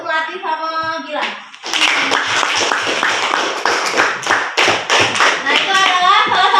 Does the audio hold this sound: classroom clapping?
yes